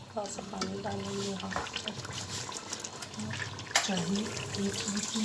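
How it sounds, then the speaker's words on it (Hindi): Water poured into a cooking pot for chicken biryani with potatoes, a steady trickling splash running under background kitchen noise and faint talk. "थोड़ा सा पानी डालेंगे।"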